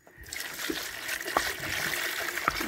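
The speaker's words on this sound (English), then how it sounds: "And put water in." Water poured into a honey bee feeding container, a close, continuous trickle and splash lasting a couple of seconds with small splatters, and no voices.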